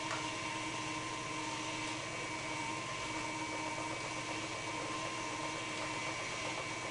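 A steady electric mixer whirs continuously through chocolate cupcake batter, a constant motor drone at moderate volume with no talking.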